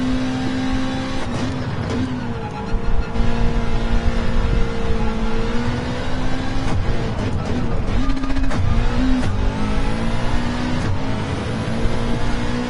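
A race car engine in Gran Turismo 7 drones loudly and steadily, with pitch dips and blips as the driver downshifts hard, several abrupt shifts breaking the sustained tone.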